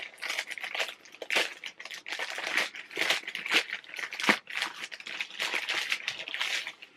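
A plastic mailing bag is pulled open by hand without scissors, producing dense, close crinkling and crackling rustles in uneven bursts that continue throughout.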